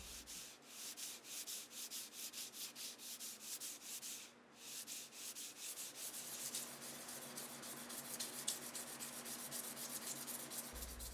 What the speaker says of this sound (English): I'm sanding all the way to 3000 to give it a silky smooth surface